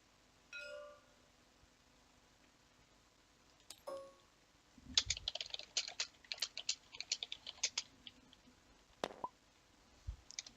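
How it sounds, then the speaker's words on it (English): Scattered keystrokes and clicks on a computer keyboard during a Star Wars game league match, a quiet irregular burst of taps in the middle stretch with a few isolated clicks before and after. "Oh, is he typing something?"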